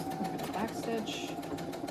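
A sewing machine back stitches a boxy makeup pouch with French seams at stitch length 2.5, its motor producing a steady, continuous whirring hum with a voice over it.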